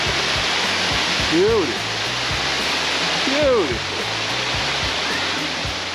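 Waterfall at Roche Abbey, Rotherham, rushing in a loud continuous roar close by, while someone speaks briefly twice over it.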